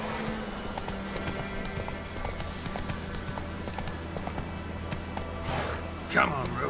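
Roach, a horse in The Witcher 3 video game, clip-clops along in a steady hoof rhythm under game ambience and music, with a brief louder burst near the end.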